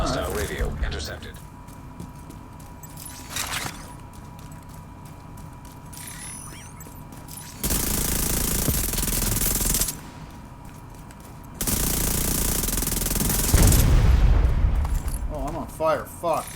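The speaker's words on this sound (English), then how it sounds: "I'm just aiming in that direction, pulling the trigger" Vector submachine gun firing at a very high rate in a video game: two long, loud continuous bursts of rapid fire, with quieter ambient game sound and brief effects in between.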